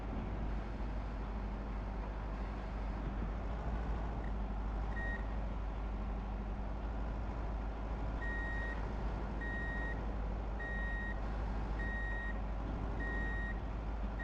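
A truck backing up a small trailer in Truck and Logistics Simulator, its reversing alarm beeping in a steady repeating rhythm over a constant low engine drone, with no talk.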